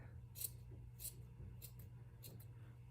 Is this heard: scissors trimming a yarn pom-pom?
yes